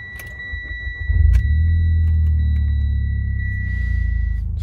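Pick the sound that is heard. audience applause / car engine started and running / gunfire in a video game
car engine started and running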